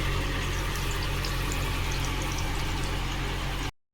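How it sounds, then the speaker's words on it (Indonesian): Eggplant fries in hot oil in a pan, a steady dense sizzle and bubbling that runs evenly and loud throughout before cutting off abruptly, with no talking. "Kita goreng dulu terongnya."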